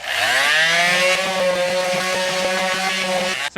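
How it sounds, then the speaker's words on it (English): Power sander working hardened Bondo body filler on a Miata with 80-grit paper, a loud steady motor whine with strong harmonics, the pitch rising at first and then holding, grinding without pause until it cuts off near the end. "the Bondo has like solidified and now I'm sanding it down"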